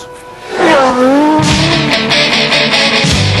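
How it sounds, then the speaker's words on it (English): Race cars ice racing at Isola slide and skid across the ice, a wavering tire squeal bending up and down before a loud engine roar takes over, close and without talk. "Ice racing."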